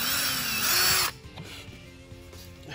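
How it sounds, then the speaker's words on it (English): A power drill pre-drills a wooden beehive frame, a loud, close, steady whine for about a second before cutting off, followed by quieter workshop handling sounds. "Pre-drill this one"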